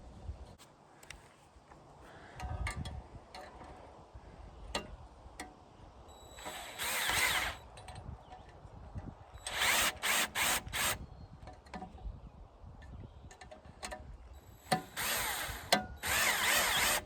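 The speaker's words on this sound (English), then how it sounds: "I'm just going to hand tighten these screws just to get them started" Screws on a throttle cable handle of a Dr Power Wagon being turned, heard as scattered light clicks and ratcheting, with several brief, louder whirring bursts like a small power driver. Close up, with no talking.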